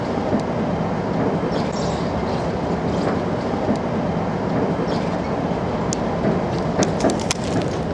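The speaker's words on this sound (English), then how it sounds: "The train is so nice." Inside a moving London train near Hampstead Heath, a loud, steady rumbling roar of wheels on rails fills the carriage, with brief metallic clicks and squeaks toward the end.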